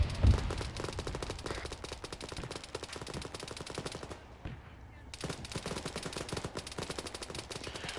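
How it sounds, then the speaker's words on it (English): Dense, rapid gunfire crackles almost without pause during a firefight near a compound, with a main battle tank reported about 50 meters outside firing toward the position; the shots stay loud and close apart from a brief lull midway. "that's the main battle tank firing at us"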